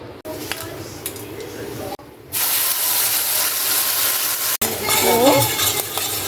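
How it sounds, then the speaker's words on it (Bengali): Whole garam masala tempering for a fish dish hits hot oil with fried onion in a pan, breaking into a loud, steady sizzle after a couple of seconds, with occasional stirring scrapes. "এবার এর মধ্যে আমি ফোড়ন দেব গরম মশলা।"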